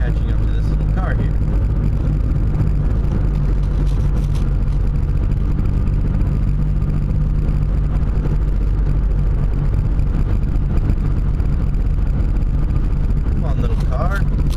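A car cruising at 75 mph on a highway, with a constant low engine drone and road rumble filling the interior, under some talking.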